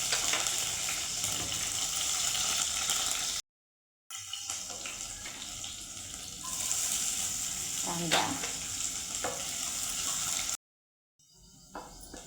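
Mustard seeds, cumin, curry leaves and green chilli sizzle and crackle in hot oil for a Marathi home recipe, a steady close frying hiss with occasional stirring clinks, broken by two brief silent cuts.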